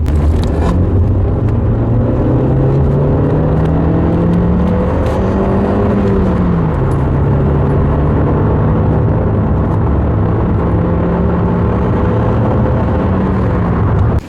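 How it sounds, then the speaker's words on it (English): Kia Pro Cee'd VR-7 accelerating hard in second gear, a loud continuous engine drone heard from inside the cabin as the pitch climbs steadily, with one brief dip partway through before rising again, and no talking. "we're in second gear and I'm going to put my foot down now"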